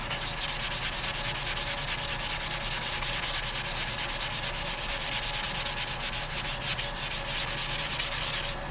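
A wooden vase spinning on a lathe is sanded with 400-grit abrasive, giving a steady, close, continuous rubbing hiss that holds even for the whole stretch with no voices.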